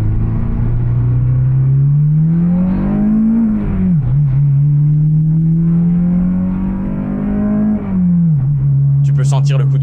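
A tuned Acura RSX engine with new motor mounts and header revs and accelerates hard into VTEC, a loud steady drone that rises in pitch twice with brief dips at each shift, heard close from inside the car.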